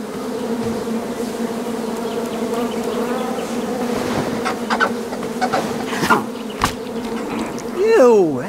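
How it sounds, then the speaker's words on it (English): A swarm of bees buzzes in the King's Quest video game, Chapter 1 A Knight to Remember, a dense, continuous loud drone with wavering pitch that swells and dips, ending in a rising whine. "I ruined the bees' day,"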